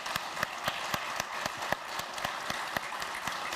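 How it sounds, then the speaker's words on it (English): An audience at an evening talk on food and climate applauds, with distinct sharp claps close by over a steady wash of clapping at moderate loudness. "So I'd like you to welcome you to clap for my colleagues."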